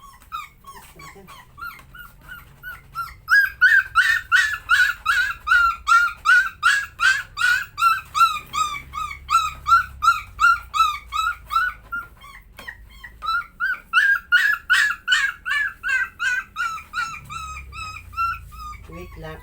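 A pet puppy barks and whines in long, steady runs of high yelps, close and loud, pausing briefly before starting again.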